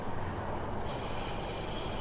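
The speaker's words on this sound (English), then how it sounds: "I know, I make diesel trains sound like they're supposed to." A diesel multiple-unit train throttling in Train Sim World 5, heard as a steady, fairly faint rumbling roar with a thin high whine joining partway through, and no talking.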